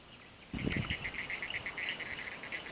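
A male tree frog calls for a mate in monsoon forest, a rapid series of high, pulsing, cricket-like notes repeating steadily at close range after a brief low thump.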